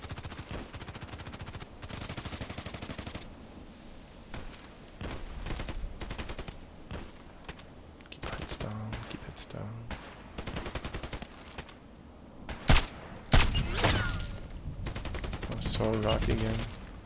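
The DTS heavy weapon in a video game fires rapid, loud automatic bursts in long stretches. Brief pauses and a sharp louder blast break up the firing, with other game sounds in the background.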